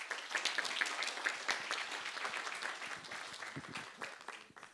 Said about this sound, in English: A big round of applause for our winners of the day.